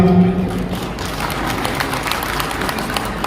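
An audience at an anniversary celebration event in Raipur applauds, a dense, steady wash of clapping from many hands filling the hall, loud and continuous after a brief tone at the start.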